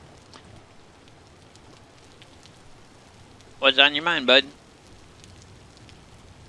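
Rain patters steadily in the Vintage Story video game as a soft, even background hiss, while someone briefly speaks a short friendly line partway through.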